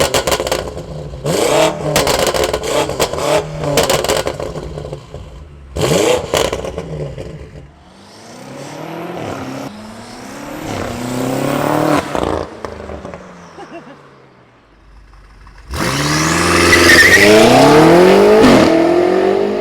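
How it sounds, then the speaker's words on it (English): A BMW F90 M5 with the S63 engine revs hard in several sharp bursts with pauses between, then a quiet gap before one long, loud, sustained rev close to the car. "this engine, the S63, sounds glorious"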